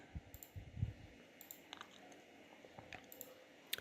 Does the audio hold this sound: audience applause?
no